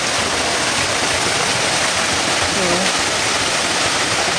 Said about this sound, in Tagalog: small waterfalls